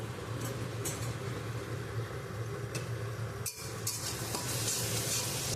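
Ginger paste, turmeric and tomato fry and are stirred in a pan, a steady close hiss with scraping spoon strokes and a brief pause partway through, no talking.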